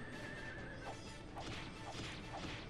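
Horses neigh repeatedly in the video game Drakengard, several whinnies in quick succession at moderate volume over a dense, noisy battle backdrop.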